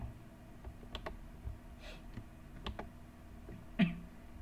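Scattered clicks of keys on a computer keyboard tapped during a JavaScript coding session, light and irregular, close but faint, with no talking.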